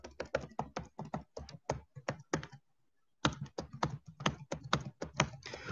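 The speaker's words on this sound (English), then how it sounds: "Just going to type this in here" Rapid typing on a computer keyboard, a close run of crisp key clicks that pauses briefly, then resumes in another quick burst.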